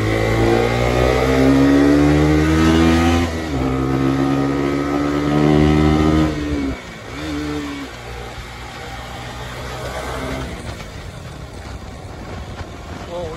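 A KTM motorcycle engine roars close up and changes pitch as the bike speeds up and eases off during a ride. Wind noise runs under the engine the whole time.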